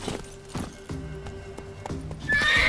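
A horse in The Witcher 3 video game clip-clops along in a steady trotting rhythm, close and clear, then gives a loud, bright neigh near the end.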